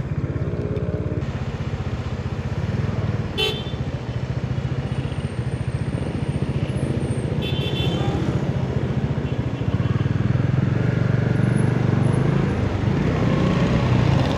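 Motorbike and street traffic passing on a city street, a continuous loud engine drone with rattling clatter and a few brief horn-like tones, swelling louder near the end.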